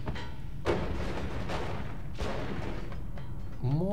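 A rapid chain of explosions in the roguelike game Noita: several loud, punchy blasts in quick succession, up close, over a steady rumble of game background noise, with no talking.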